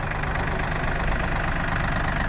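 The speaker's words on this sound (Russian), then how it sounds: "Естественно, мотор дизельный, как и все, в принципе, японские тракторы." Yanmar F195 diesel tractor engine, a 20-horsepower four-wheel-drive Japanese tractor with a rotary tiller, running steadily at idle with a dense, even rumble throughout, close and fairly loud, no voices.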